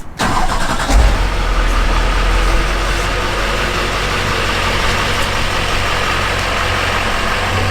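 A Chevrolet Kodiak truck's engine rumbles loud and close as it pulls away, holding a steady, heavy drone with a brief low surge near the start and no voices over it.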